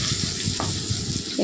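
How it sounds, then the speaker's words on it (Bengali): Potato, carrot, papaya, green banana and bitter gourd fry for shukto in a pan, giving a loud, steady sizzle with a couple of brief stirring scrapes. "একটু ভাজা ভাজা করে নেব।"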